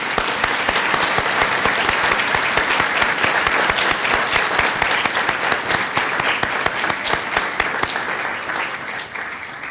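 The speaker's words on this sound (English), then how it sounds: "let's give the graduate students a round of applause" Sustained applause for graduate students at a college of nursing white coat ceremony, dense steady clapping from a large audience filling the room for nearly ten seconds without any speech.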